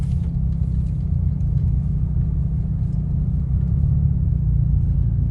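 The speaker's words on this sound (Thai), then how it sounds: "ขับออก จากด่านนะครับ" A Honda City 1.0 turbo car drives out of a border checkpoint, its engine a steady low rumble with constant road drone from inside the cabin and no talking.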